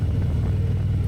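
A 2015 Harley-Davidson Street Glide Special gives a steady deep low-revving rumble, loud and close, with a pulsing throb and no voices.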